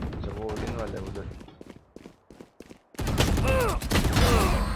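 Valorant gunfire in a custom-lobby match, with bursts of rapid shots, a brief lull of sparse single cracks, then loud sustained firing. Someone talks excitedly throughout.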